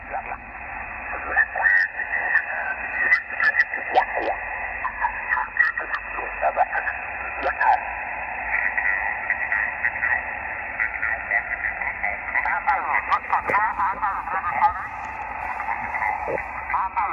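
Amateur radio receiver tuned across a band of stations calling CQ, a steady hiss with overlapping warbling voices and tones drifting in and out, continuous and fairly loud throughout.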